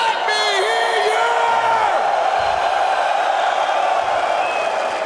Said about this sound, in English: Let's just get some real noise out of them.